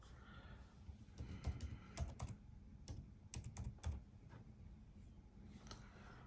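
Quiet, close typing on a MacBook Pro 16-inch keyboard while an email address is entered, with irregular clusters of soft key clicks over a low background hum.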